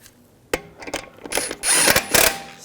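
A ratchet snugging down lug bolts on a 2007-2013 BMW 328i front wheel after brake pad wear sensor replacement: close, sharp clicking bursts of ratcheting, louder and denser toward the end.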